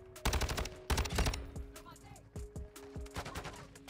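STB 556 rifle firing in Modern Warfare 2, rapid automatic bursts of crisp close shots, two heavy bursts early and then lighter, scattered volleys.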